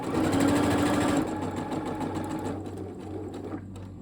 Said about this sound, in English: I'm going to backstitch, and then I'm going to stitch all the way